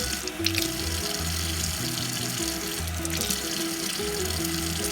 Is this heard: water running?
yes